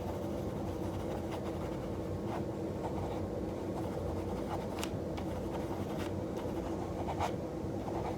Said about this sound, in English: I'm going to be writing shorthand.